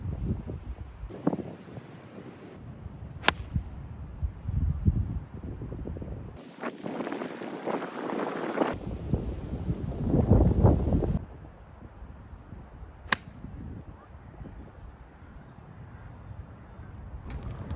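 Cold wind gusting across an open golf course, a steady low rumble of wind buffeting the microphone with a few stronger gusts, and no voices.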